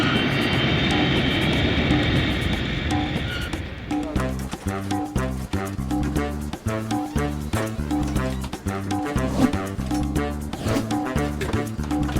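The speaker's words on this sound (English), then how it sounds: "When their airplane lands" An airplane landing with a steady broadband engine roar for the first few seconds, after which music plays loudly over it.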